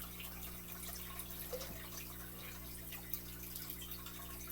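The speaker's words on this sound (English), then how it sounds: "I have to add one more thing of water to the tank" Water poured into a molly fish tank, a faint trickle and light splashing with a few drips over a steady low hum.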